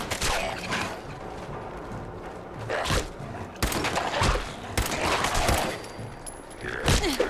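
Gunfire in Fallout 4: repeated loud shots crack out in irregular bursts across several seconds, close and punchy, with mechanical clatter and game ambience between them.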